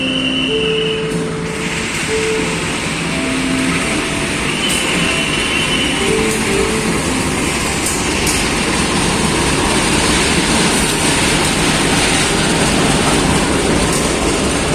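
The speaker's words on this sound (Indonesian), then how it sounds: "itu dia kereta api Logawa sudah sampai di stasiun Surabaya Gubeng" A Logawa passenger train rolls into Surabaya Gubeng station on platform 5, a loud continuous rumble of wheels and carriages with squealing tones, heard close throughout.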